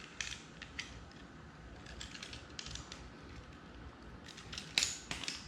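Parts of a no-weld astromech droid center leg being tightened down with a hand tool, giving quiet, close ratcheting clicks and mechanical creaks in irregular bursts over a soft background.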